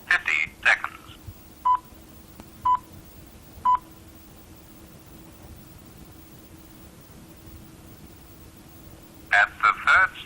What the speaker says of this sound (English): we dial 1194